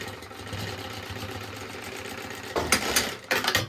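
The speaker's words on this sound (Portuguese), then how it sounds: "faço um pesponto aqui para fixar e firmar a minha alça" A sewing machine backstitches to secure a fabric strap on a baby organizer, whirring steadily up close, then running in two louder, faster bursts near the end.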